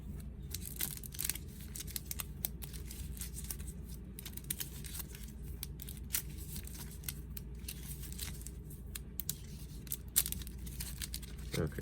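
Playing cards for the board game Marvel Villainous are shuffled in soft, rapid riffles and taps, a faint papery crackle close by against a low background hum.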